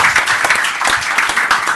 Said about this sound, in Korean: 지사님께 다시 한번 박수 보내드립시다